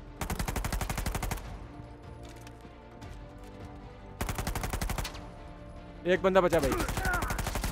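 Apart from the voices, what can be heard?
gunfire and sniper shots in video game Uncharted 4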